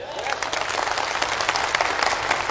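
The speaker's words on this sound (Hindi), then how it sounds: "मेरे दोस्त, इस काम के लिए ताली बजना चाहिए कि नहीं?" A seminar crowd claps loudly and continuously, many hands giving a dense, close, slightly uneven patter that carries through without any talking.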